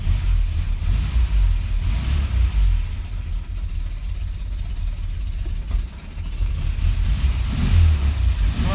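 A Škoda 105L car engine runs at low revs, a steady deep rumble close by that dips briefly and then picks up slightly.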